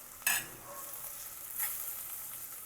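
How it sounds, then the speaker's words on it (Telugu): Chilli powder, turmeric and dry spices frying in a pot of oil for rajma masala, with a steady close sizzle broken by two sharp scraping stirs, the first loud near the start and a softer one later, and no voices. "ఇవన్నీ కూడా వేసి బాగా మాడిపోకుండా కలుపుతూ వేయించుకోవాలి"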